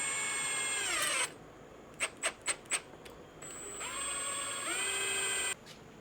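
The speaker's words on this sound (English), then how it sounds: "let's grab a couple screws and get started. I'm gonna pre-drill these" A power drill pre-drilling screw holes, two sustained whining runs with the pitch sweeping as the motor spins up and slows, separated by four short quick trigger bursts, close and clear in a quiet room.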